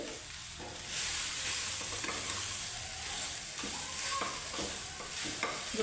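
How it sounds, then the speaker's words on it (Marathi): A vegetable filling with turmeric and asafoetida is mixed in a hot pan for a paratha, giving a continuous hiss of sizzling with soft scraping strokes of the spoon, close and steady, with no talking. "आता हे सगळं एकत्र मिक्स करून घ्यायचं"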